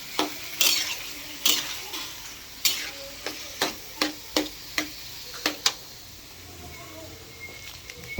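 Scrambled eggs with tomatoes being stirred in a frying pan, a utensil scraping and tapping the pan in a run of sharp, fairly regular strokes over a faint sizzle, close by with no talking.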